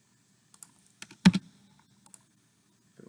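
Search text typed on a computer keyboard: a handful of sparse, crisp key clicks, one brief louder cluster, close and otherwise quiet.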